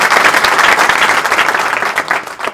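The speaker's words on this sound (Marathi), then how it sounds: "त्या दोघांसाठी एकदा सर्वांनी जोरात टाळ्या." Loud, dense applause from a large audience at a public programme, with many hands clapping close together and continuously before it tapers off near the end.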